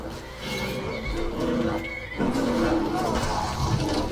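A horse in the Skyrim video game gives a loud, drawn-out neigh and whinny over game sounds, with a second call following after a brief pause.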